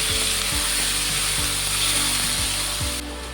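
Spice paste of onion, green chili, ginger, garlic and tomato sizzles steadily in a pan with fried potatoes and aubergine, a continuous broad hiss with a few soft knocks spaced through it.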